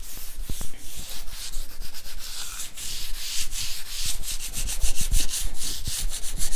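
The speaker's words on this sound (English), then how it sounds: "it's helpful when you're sanding to try and go with the grain of the wood." Sandpaper rubs back and forth over a wooden coffee table in quick, rhythmic strokes, a close, loud scratchy rasp with no voices.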